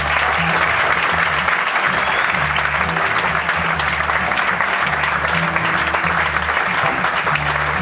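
Sustained, dense applause from a concert audience at the San Vito Jazz 2012 festival fills the full stretch at steady loudness, with no let-up.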